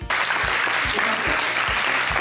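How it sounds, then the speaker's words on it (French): A studio audience claps in steady, dense applause, loud and close, with a voice faintly present beneath it. "nous avons une salle qui va applaudir tout de suite"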